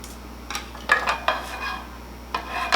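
Clinks and scrapes of a utensil against a small pan as caramel sauce is spooned in, a handful of sharp metallic knocks with softer scraping between them, close and without talk.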